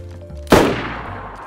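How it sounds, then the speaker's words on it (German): A single loud gunshot cracks sharply in a video game shooter and decays over about a second, standing close and alone with faint background game ambience before it. "Wieso schießen wir auf die eigentlich?"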